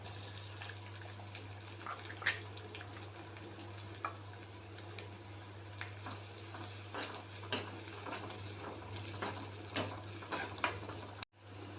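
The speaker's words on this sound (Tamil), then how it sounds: "இப்போ வெங்காயம் நல்லா வதங்கிருச்சு" Onions sautéing in oil with mustard seeds, curry leaves and garlic in a pan, a soft continuous sizzle with faint scraping stirs, heard alone.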